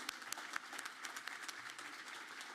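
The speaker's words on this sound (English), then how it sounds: "And now, you can clap for that" Audience clapping at an evening gala event, faint and distant, with a steady patter of many hands and a few sharper individual claps standing out.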